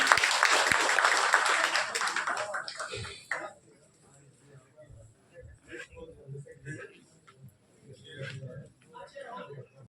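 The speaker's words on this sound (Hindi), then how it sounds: "जोरदार तालियों के साथ उनका स्वागत करें।" An audience claps loudly in welcome of an MP arriving at a felicitation event, a dense burst of applause for about three seconds that breaks off into scattered faint claps and room noise.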